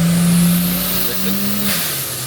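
Turbocharged Barra engine revving as boost rises, a strong sustained tone that climbs and then eases, close and loud over a short stretch.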